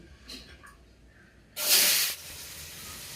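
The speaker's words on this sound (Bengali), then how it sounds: "আমি কিন্তু এখন আলু আর বটবটিটা দিয়ে দিচ্ছি" Potatoes and flat beans hit hot oil in a heated wok, a quiet backdrop giving way to a sudden loud hissing sizzle for about half a second before settling into a steadier, softer fry.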